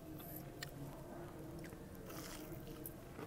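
Close crunchy bites and chewing of breaded chicken tenders, a few sharp crackling crunches spread over quiet steady background noise.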